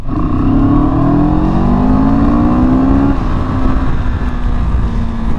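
A CFMOTO CL-X 700 motorcycle engine in sport mode revs up to about 3,000 RPM and holds there, a loud, close, continuous rising drone with no talking.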